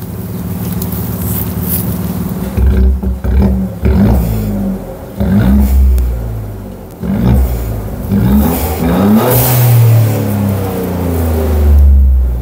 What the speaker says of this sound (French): Est-ce que tu peux me faire une petite accélération avec le clapet fermé et clapet ouvert?